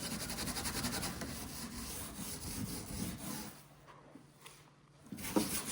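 A grubby end of a table is scrubbed with a scrubber, a close rasping rub in quick strokes that stops briefly before resuming; no one speaks.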